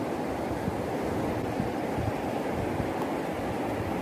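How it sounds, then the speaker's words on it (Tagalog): Large ocean waves wash onto a white-sand island beach with a continuous broadband roar of surf. Wind buffets the microphone, and no voices are heard. "Parang tingnan mo, lalaki ng mga alon."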